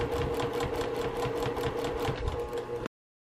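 A sewing machine stitches down quilt binding in a fast, even run of mechanical pulses for about three seconds before stopping abruptly.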